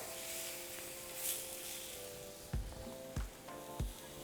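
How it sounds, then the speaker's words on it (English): Quiet sizzling of chile frying in oil, with a few soft knocks and scrapes of a utensil near the end. "And right here, I'm going to be frying my chile."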